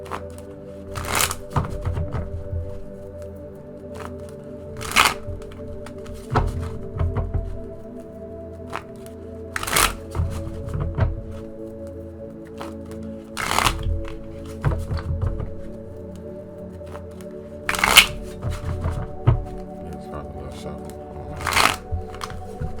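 Tarot cards being shuffled and riffled in bursts, with sharp periodic thumps and taps as the deck is squared on a table, fairly close.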